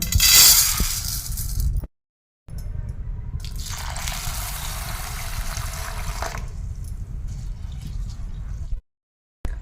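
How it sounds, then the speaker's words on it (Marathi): Khapli wheat grains swished and rinsed in a bowl of water, with splashing, dripping and light clinks of grain against the bowl, interrupted by two short silent gaps. "आपल्याला हे गहू स्वच्छ पाण्याने एकवे धुवून घ्यायचे आहेत"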